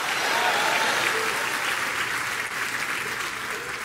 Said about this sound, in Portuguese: Dá uma salva de palmas ao Senhor.